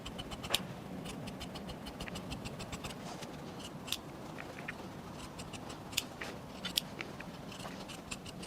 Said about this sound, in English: I'll mark the straps and cut those out